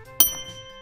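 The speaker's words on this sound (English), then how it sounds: "So, hit the bell." A single sharp strike on a toy Krusty Krab service bell, followed by a clear ringing tone that hangs on and slowly fades.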